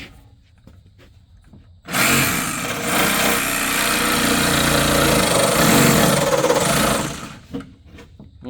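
A Dremel rotary tool cuts through a crawlspace cover, a loud, steady whining grind that runs continuously for about five seconds between quieter handling noises before and after.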